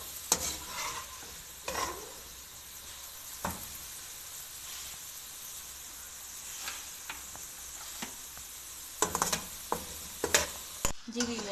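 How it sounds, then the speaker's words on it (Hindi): Potatoes frying lightly in oil for a chicken and mixed vegetable dish: a quiet, even sizzle with occasional stirring clicks and scrapes that become more frequent near the end, no voices. "अब हम इसमें अपने आलू शामिल करेंगे, इन्हें भी हल्का फ्राई कर लेंगे।"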